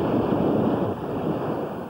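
Sea waves wash steadily in a Spanish TV advert, a continuous broad rush of surf with a windy texture, fairly loud and with no voices.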